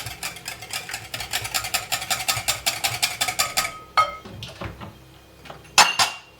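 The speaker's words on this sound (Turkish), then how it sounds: "Şimdi bunları önce çırpıcıyla karıştırayım." A whisk beats dough ingredients in a bowl for perde pilavı, giving fast, even metallic clinks for about four seconds, then a few separate knocks and taps against the bowl.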